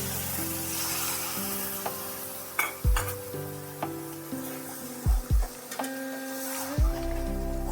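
Sizzling and stirring of onions frying in a pan for aloo dum, with water splashed in a little at a time, giving several sharp hissing bursts over a steady close frying crackle.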